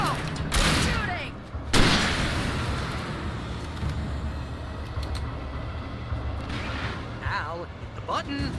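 Video game combat in Alan Wake, with two loud bursts of gunfire and a flashbang, followed by a continuous dense rumble of action. People talk over it.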